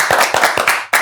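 Studio audience applause welcoming a guest onto a show, a short loud burst of clapping with rhythmic hand claps that briefly dips before surging again near the end.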